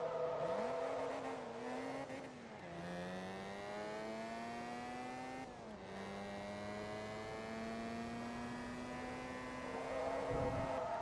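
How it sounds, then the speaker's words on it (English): A race car engine in the video game Forza Motorsport 2 drones at high revs, dropping in pitch at two quick gear shifts before climbing again, loud and close with a brief squeal near the end. "I don't know why this car sounds like it's been straight piped."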